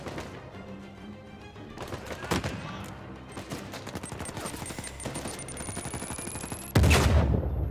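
Rapid bursts of gunfire from the video game Uncharted 4 on PS4, sustained crackling shots and sharp impacts building to a loud blast near the end.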